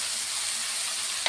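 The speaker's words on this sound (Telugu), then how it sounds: "ఇప్పుడు ఉడికించుకున్న క్యాబేజీ కూడా వేద్దాం" Boiled cabbage added to a hot frying pan with green chilies and chili powder, a steady loud sizzle with a brief stirring scrape at the end.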